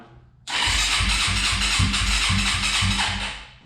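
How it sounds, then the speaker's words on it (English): A 2004 Suzuki LTZ250 ATV engine turns over and fires up with a battery charger connected, then runs in a loud, rapid, uneven chugging idle close by before fading slightly. "let's see if we can get it started now. With the charger on it."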